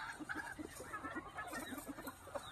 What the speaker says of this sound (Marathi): कोंबड्या कशा खाताय तोडून